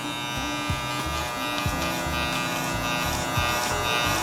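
Electric hair clipper fitted with a 1.5 guard cutting hair during a self-administered taper, a steady close buzz with brief dips and surges in pitch as the blades pass through.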